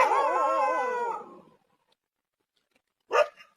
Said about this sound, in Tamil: இதை பார்த்து ஃபர்ஸ்ட் நாய் குலைக்குதுங்க.